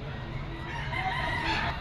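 Roosters crow and chickens cluck at a busy poultry market, a dense, steady backdrop of fowl calls near and far with market noise underneath.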